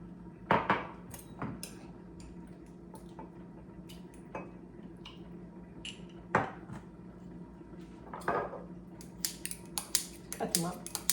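Sun-dried tomatoes being chopped small with a knife on a board for a one-pot potato dinner, giving scattered, irregular sharp taps and clicks, close by and fairly faint, with quiet pauses between cuts.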